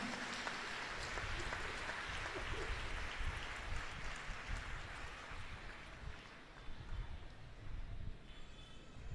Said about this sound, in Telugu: గట్టిగా చప్పట్లు కొట్టుకొని దేవుని వందనాలు